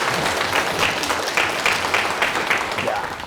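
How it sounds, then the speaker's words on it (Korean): An audience at a talk on life advice bursts into loud, sustained applause, dense clapping rolling on for a few seconds with a faint voice or two mixed into the crowd noise. "이분에게 큰 박수 부탁드립니다."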